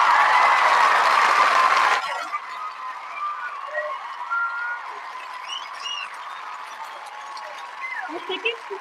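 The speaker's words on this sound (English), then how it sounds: "Can we have a big round of applause for them?" Applause rings out for a Brazilian school team at a science prize announcement, a loud burst for about two seconds that cuts off abruptly, followed by quieter room noise and faint chatter.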